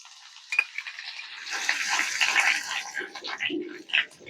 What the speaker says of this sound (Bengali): একটু সুন্দরভাবে ভেজে নিয়েছি।